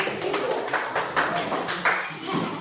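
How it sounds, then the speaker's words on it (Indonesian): A classroom of students gives a round of applause after an ice-breaking activity, with scattered claps mixed with voices and chatter throughout. "Kita beri tepuk tangan"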